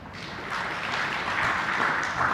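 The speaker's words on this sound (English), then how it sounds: "a hand of applause." Conference audience at a cyber insurance event applauds, the clapping swelling from quiet to a steady, moderately loud wash of hands that carries on evenly to the end.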